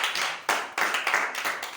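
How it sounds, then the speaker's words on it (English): Rhythmic hand clapping from a church congregation during a sermon, loud sharp claps in a quick, uneven run with no one speaking over them. "You want to clap unto the"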